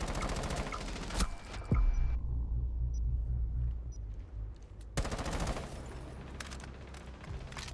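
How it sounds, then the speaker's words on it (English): Rapid gunfire in the Rainbow Six Siege video game, loud bursts of shots with a sharp boom near the start, a dense stretch of rumbling fire, then another burst of close shooting toward the end. "That's what you call a fucking headshot, Nico."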